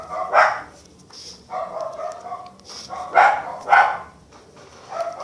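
Several Minecraft dogs bark in irregular bursts, some sharp and loud, others softer and more distant, with brief pauses between them.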